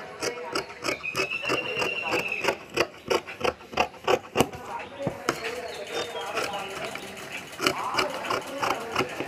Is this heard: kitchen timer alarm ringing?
no